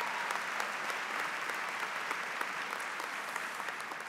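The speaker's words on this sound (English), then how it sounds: "Give them a round of applause for that." A crowd at the UMBC Winter 2017 undergraduate commencement ceremony applauds in a continuous, even wash of clapping heard from a distance at moderate level.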